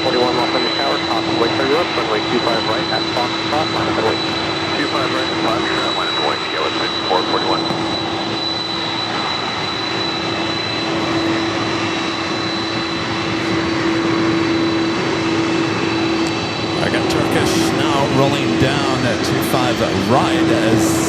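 Jet airliner engines at Los Angeles LAX airport, a steady loud roar with a constant whine running throughout, rising slightly near the end, with radio-style talk over it.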